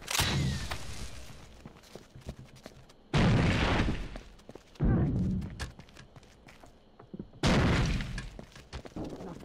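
A grenade explosion in a video game lands as a series of heavy booms, several loud broadband blasts in a few seconds over a rumbling background of gunfire and movement.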